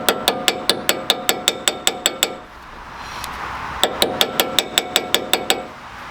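Sharp metallic hammer taps driving a front wheel bearing into place on a Mazda MX-5, in quick, even succession, about a dozen, then a short pause and another steady run; close and fairly loud, no talking.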